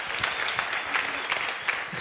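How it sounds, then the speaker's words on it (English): Applause from an audience at an entrepreneurship Q&A talk, a steady wash of many hands clapping, moderately close and continuous throughout. "Let's clap it up for him."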